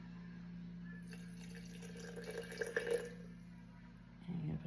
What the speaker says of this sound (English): And you're gonna put 100 warm water.